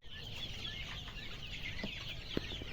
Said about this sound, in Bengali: সোনালী মুরগি, সোনালী